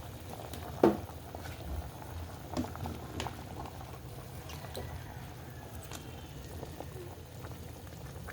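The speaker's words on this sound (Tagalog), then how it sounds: "Uy, kulong-kulo na." A pot of sinampalukang kambing, goat head and feet stew, boils at a low, steady bubble, with occasional soft pops and a brief clink near the start, fairly quiet and without talk.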